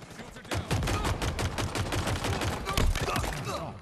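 Rapid gunfire from a video game sidearm and other weapons, a dense burst of repeated close shots rattling on for several seconds with no pause.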